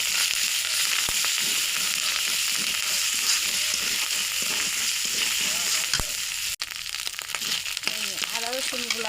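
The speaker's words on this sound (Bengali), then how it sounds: "আদা রসুনগুলো ভাজা হয়ে গেছে" Ginger garlic paste and cumin sizzle with onions in a pan for prawn curry in coconut, a steady close crackle with rhythmic stirring scrapes, and a voice speaks near the end.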